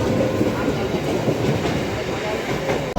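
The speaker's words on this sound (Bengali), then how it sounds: "প্ল্যাটফর্ম নম্বর 18 থেকে নামখানা লোকাল ট্রেনটা ছাড়লো শিয়ালদা থেকে" A Namkhana local train pulls out of platform 18 at Sealdah station, a loud, close, continuous rumble with rattling wheel clatter throughout.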